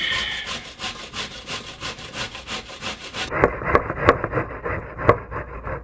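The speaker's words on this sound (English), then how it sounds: "You're going to take your zucchini, take about those size holes on your hand grater, and you're just going to go back and forth" Zucchini rubbed back and forth across the holes of a hand grater, giving a steady run of rasping strokes, close and fairly loud, that turns into sharper, more separated scrapes near the end.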